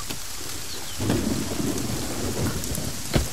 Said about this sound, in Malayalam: തെന്നി വീഴല്ലേ, നല്ല മഴയാ.